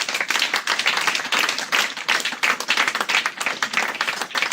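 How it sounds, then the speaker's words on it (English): A hall audience at a Society for Cellular Pathology Scientists of Nigeria gathering gives a loud, sustained round of applause. Dense clapping runs steadily throughout, with no clear talk over it. "let us give it to him with a round of applause"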